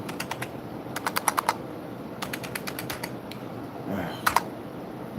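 Computer keyboard typing in bursts of quick clicking keystrokes, with short pauses between runs, fairly close over a steady background hiss.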